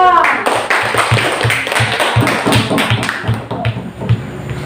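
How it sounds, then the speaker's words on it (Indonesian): Schoolchildren in a sixth-grade classroom clap their hands in a rhythmic pattern of sharp, evenly spaced claps, moderately loud, with chatter and room noise mixed in. "Tepuk tangan untuk Bang Kosiko."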